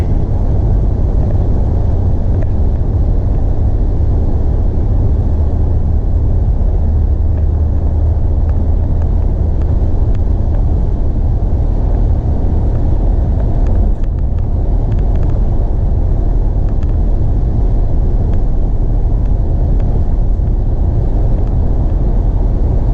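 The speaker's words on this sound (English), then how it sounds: "Plenty of traffic out here today." Steady low road rumble and tire noise from inside a car driving through snow on a Monday morning road trip to Muncie, Indiana, continuous and fairly loud with no voices.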